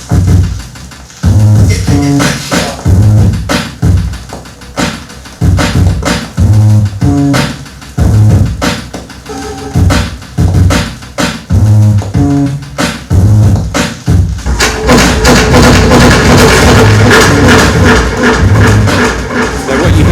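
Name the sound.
music with added delay effect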